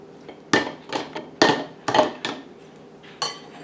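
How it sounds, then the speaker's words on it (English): Pickle mixture being spooned into wide-mouth jars for freezer pickles, heard as a series of close, sharp clinks and knocks of utensil against glass at uneven intervals in a quiet room. "I'm going to get my pickle mixture and I'm going to put it in my jars"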